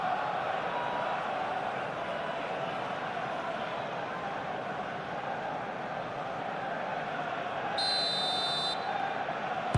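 Crowd noise from a simulated PES football match between Arsenal and PSG in the Champions League, a steady roaring stadium wash throughout with a brief high electronic tone near the end.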